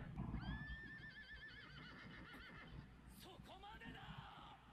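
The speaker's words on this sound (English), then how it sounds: "He is strolling on the white horse." A white horse neighs, its rising and falling whinny carrying over continuous talk and background noise, with a second shorter whinny near the end.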